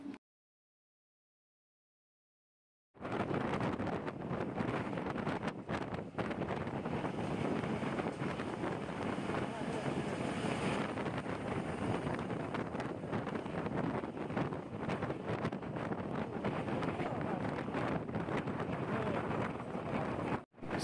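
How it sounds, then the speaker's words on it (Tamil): A TNSTC government bus travels at speed on the Sivakasi to Coimbatore route. After about three seconds of silence, a loud, constant roar of wind and road noise fills the cabin without a break. "சிவகாசியில் கிளம்புன நம்ம வண்டி இப்போ வரைக்குமே சூப்பரான ஸ்பீடில் தாங்க போயிட்டுருக்காங்க."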